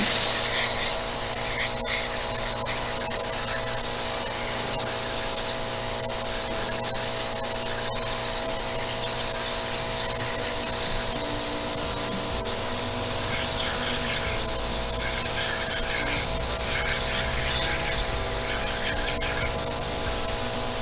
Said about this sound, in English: Airbrushing it's certainly a lot quicker than painting them by hand.